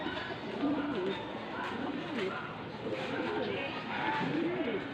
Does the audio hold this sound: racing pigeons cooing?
yes